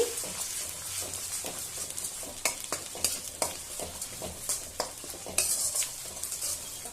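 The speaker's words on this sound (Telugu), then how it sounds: "ఇది బాగా వేగాలి రెడ్ కలర్లో వచ్చే వరకు వేగాలి" Ginger garlic paste sizzles steadily in hot oil for an egg pickle, with a spoon stirring and scraping against the pan in repeated sharp strokes, close and fairly quiet.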